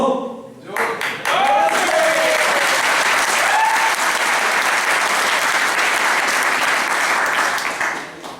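Loud, sustained applause from a large audience at a business seminar, rising after a brief start and holding steady for several seconds before tapering slightly, with some cheering and voices mixed in.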